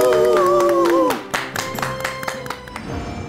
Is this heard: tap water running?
no